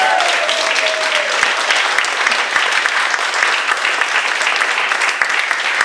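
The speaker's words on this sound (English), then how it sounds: "A massive round of applause for Mello Baku." An audience at a stand-up comedy show applauds loudly and continuously, a dense wash of many hands clapping at close range throughout.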